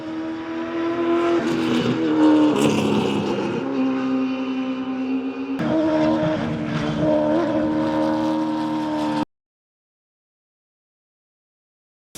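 A V8 Supercar engine drives at a Melbourne circuit, a loud sustained roar with rising and falling revs that cuts off abruptly near the end.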